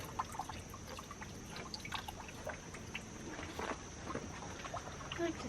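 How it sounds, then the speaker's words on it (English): Water trickles and drips off rocks and down through moss on a wooded nature trail, a steady, soft patter of small splashes close by. "just a lot of water trickling here off of the rocks"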